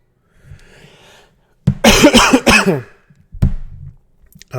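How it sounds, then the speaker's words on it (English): A short burst of two or three harsh coughs close to the mic, followed by a quieter throat sound, with near silence before. "Sorry about my cough."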